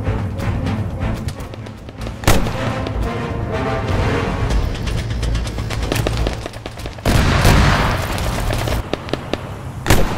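Heavy combat in Arma 3: tanks firing, with booming explosions and scattered gunfire over a constant rumbling din, and a couple of louder blasts standing out, no voices.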